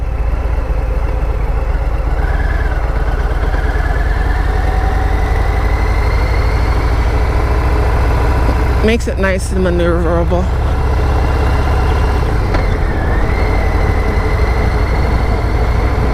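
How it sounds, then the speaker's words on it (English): A V-twin motorcycle engine idles with a low, steady rumble throughout, while someone speaks briefly over it near the middle. "And I like the sound of a V-twin."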